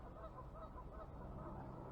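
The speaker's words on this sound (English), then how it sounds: "So I'm watching these geese here." Geese honking from a quiet cove edged with thin ice, a steady run of overlapping nasal calls at moderate distance over low rumbling background noise, with no talking.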